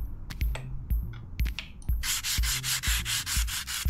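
Rails being sanded by hand in a train station renovation video game, heard as several scattered scrapes followed by a dense, even train of loud abrasive rubbing strokes, close and without speech.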